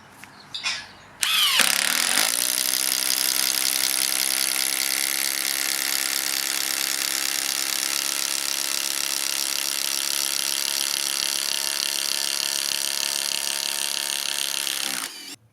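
A hand-held Makita hammer drill with a Forstner bit whines steadily boring into a treated wooden post, spinning up after a brief knock and running loud and continuous for over ten seconds before stopping.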